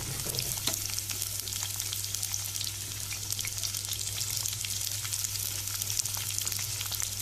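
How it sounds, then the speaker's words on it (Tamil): Onion and green chili frying in hot oil in a kadai, a loud, dense, continuous sizzle that holds steady throughout, with a low steady hum underneath. "இப்போது நம்ம வெங்காயமும் அந்த பச்சை மிளகாயும் போட்டு நல்லா கோல்டன் ப்ரௌனில் வதக்கிக்கலாம்"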